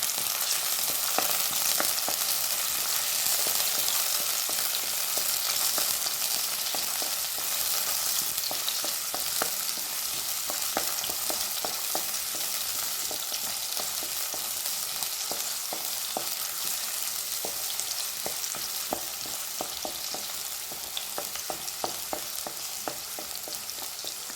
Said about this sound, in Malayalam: ആദ്യം നമുക്ക് ഇത് മൂന്നും ഒന്ന് നന്നായി ഒന്ന് വഴറ്റിയെടുക്കാം